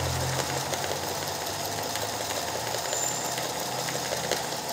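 A home sewing machine runs continuously at a steady whirring hum with a fine mechanical rattle while straight-stitching embroidered leaves, close and even throughout without pauses.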